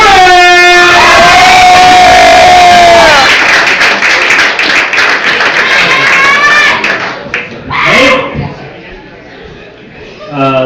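A stand-up comedy crowd claps and cheers as the comedian is introduced, with a strong tonal voice or music over the noise; the applause fades toward the end, where a voice briefly speaks.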